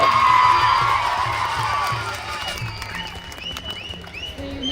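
A village crowd claps loudly and steadily in honour of the sarpanch, with cheers and whoops mixed in and a voice heard briefly over the applause as it slowly fades.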